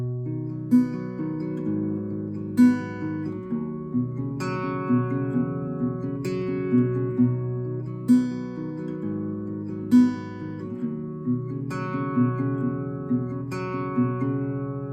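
The full fingerpicked acoustic guitar intro of Ed Sheeran's "Camera" (live version) repeats its arpeggiated chord pattern across several cycles, close and steady, with each phrase opening on a stronger plucked accent and no voices.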